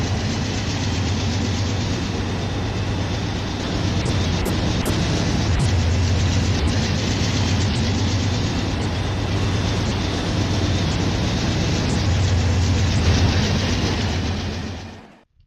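A train from a Minecraft mod rumbles steadily with a low, continuous engine drone and rolling noise, moderately loud throughout and fading out at the very end, with no talking.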